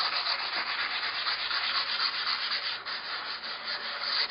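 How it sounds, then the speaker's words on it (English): A wooden door being sanded by hand with 150 grade sandpaper, a steady, close, continuous scratchy rubbing with a slightly pulsing back-and-forth stroke throughout. "I'm going to use a 150 grade sandpaper, and I'm going to do it by hand this time."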